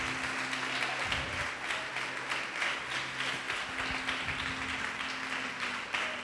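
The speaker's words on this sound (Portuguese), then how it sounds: "Pode aplaudir e glorificar Jesus por isso" A church congregation applauding during a sermon, a steady wash of many hands clapping at moderate, even level with a low sustained tone underneath and no clear talk.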